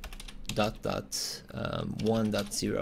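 Quick clicks of a computer keyboard sound as someone types, mixed in under someone speaking close by.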